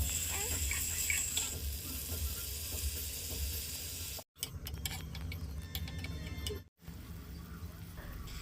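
A fish curry with a little water added, simmering and bubbling in a pan with a steady soft sizzle and crackle, close by, interrupted by two short cuts.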